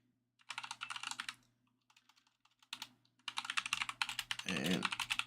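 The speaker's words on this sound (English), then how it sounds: "Just typing up some notes." Typing on a computer keyboard comes in quick bursts of close key clicks with short pauses between them, quiet and without talk.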